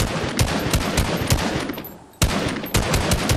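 Fortnite gunfire: loud, rapid automatic bursts of evenly spaced shots, a brief lull, then the firing resumes, heard close with no talking.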